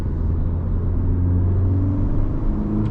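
Steady engine rumble from inside a car with a TSP Stage 1+ tune, cruising on a test drive, a continuous low droning hum at an even, fairly loud level with no talking.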